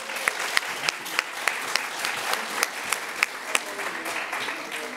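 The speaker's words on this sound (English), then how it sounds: "first, please, a round of applause for Matthew Tembo." An audience applauds a musician at a talk, with steady, moderately close clapping that continues at an even level for several seconds.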